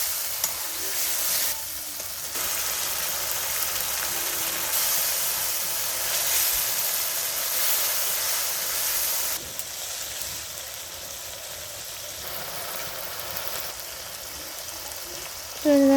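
Small fish sizzling steadily in a hot pan with oil while cooking for a Bengali chorchori, a continuous loud hiss with a few brief dips and a faint clatter near the end.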